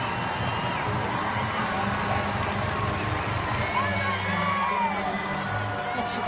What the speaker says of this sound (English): The crowd will cheer on.